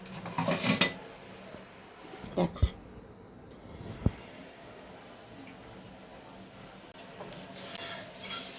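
A spoon clinks against a bowl while stirring oat chila batter with coriander, green peas and green chilli: a few quick clatters at the start, two more sharp taps, then quiet scraping.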